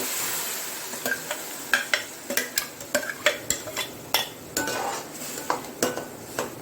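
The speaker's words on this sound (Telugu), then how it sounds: "ఇలా ఫ్రై అయిన తర్వాత ఈ ఆనియన్ టమాటా పేస్ట్ వేసుకోవాలి" Onion tomato paste fries in a pan while a spatula stirs it, a steady sizzle underneath repeated sharp metallic scrapes and taps in quick rhythm, close up.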